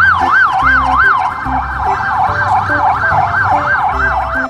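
A toy police car plays an electronic wailing siren, rising and falling in a fast regular cycle, loud and close, with a lower repeating tone pattern underneath.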